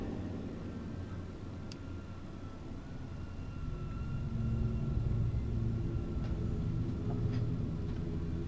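Helicopter approaching in the horror game Man of Medan, a low, steady rotor and engine rumble that swells slightly louder as it nears, with no voices over it.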